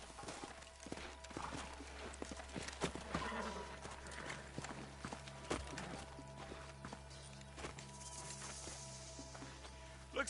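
Horse hooves clip-clopping in the Red Dead Redemption video game, an irregular run of nearby hoof strikes with snorts and faint game ambience, and no talk.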